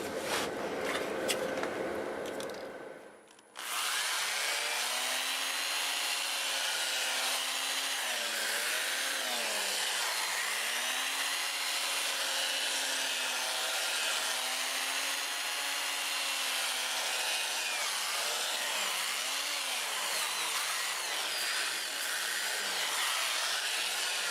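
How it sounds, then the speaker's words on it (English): Sandpaper rubs steadily against a wood-turned wave bowl with intersecting rings spinning on a lathe, a continuous loud abrasive hiss with a faint motor hum beneath, preceded by a few seconds of quieter tool noise. "I think we can probably get this sanded up now."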